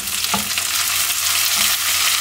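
Vegetables sauté in a pan with ginger and garlic, a steady close sizzle and frying hiss running throughout, with a brief stirring clatter near the start.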